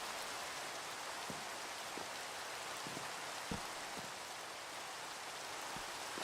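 Steady rain falls across a Minecraft world, a dense, even hiss of drops with occasional soft patters standing out, continuous and alone with no voices over it.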